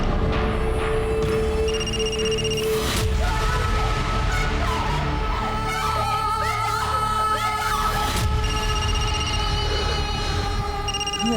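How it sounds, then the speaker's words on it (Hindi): A telephone rings repeatedly in a dramatized Hindi crime scene, its tone pattern recurring over a dense, loud music and effects bed throughout. "वृंदा, वृंदा, वृंदा, देख क्यों नहीं रही किसका फोन है?"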